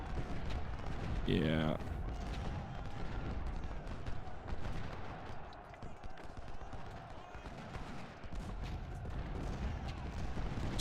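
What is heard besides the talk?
artillery and infantry gunfire in video game Ultimate General: Civil War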